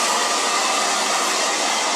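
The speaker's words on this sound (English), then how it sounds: "just really get locked in with the heat of this blow dryer" Blow dryer drying hair during a haircut, a loud, steady, close whooshing roar of hot air running continuously with no breaks and no voices.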